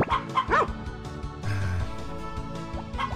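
A dog barks in the farming game Harvest Moon Back To Nature: a quick run of sharp yips and bow-wows near the start, then a pause and one more bark near the end, with game music underneath.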